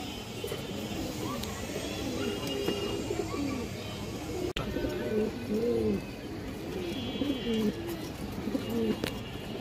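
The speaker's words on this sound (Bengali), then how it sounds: "এখানে 6 পিস বাচ্চা কবুতর আছে" Six baby pigeons coo softly in repeated low, throaty calls amid background noise, with faint voices and a brief click partway through.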